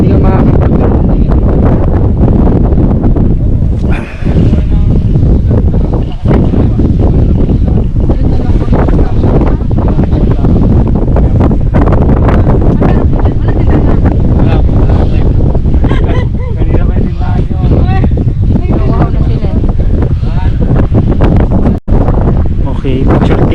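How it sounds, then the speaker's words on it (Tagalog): Strong gusting wind on Mt Tarak in Mariveles, Bataan, buffets the microphone as a loud, steady roar that keeps going without a break, with rustling and a faint wash like distant surf beneath it. "sobrang hangin"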